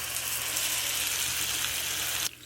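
Chicken pieces hitting melted butter in a hot pan set off a loud, steady sizzle that fills the whole moment and then drops off abruptly near the end.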